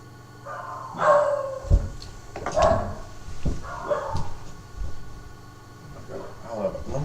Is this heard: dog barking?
yes